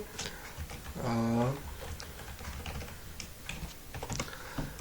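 A password is tapped out on a computer keyboard in quick, irregular keystrokes over several seconds, with someone speaking briefly over the clicks.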